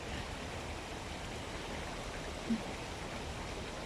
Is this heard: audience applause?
no